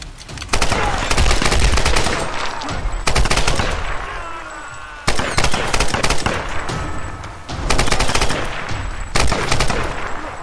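Rapid automatic gunfire in the Tomb Raider video game rattles out in loud, sustained bursts, broken by brief pauses over about ten seconds.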